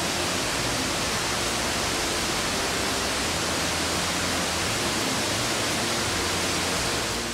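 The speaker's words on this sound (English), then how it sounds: "with gushing waterfalls as a background" Abbey Falls in Coorg sends out a steady, dense rush of falling water, a continuous broadband roar without pauses or other distinct sounds.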